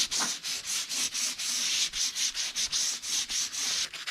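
Rhythmic abrasive sanding strokes scuffing the painted bodywork of a 1959 Dodge Coronet, about a dozen quick back-and-forth passes, close and steady with no talking.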